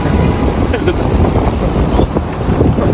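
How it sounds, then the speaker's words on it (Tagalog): Strong wind at a Chicago river marina buffets the microphone with a loud, continuous rumbling roar throughout. "this is the strong wind that welcomed us. It's really a windy city."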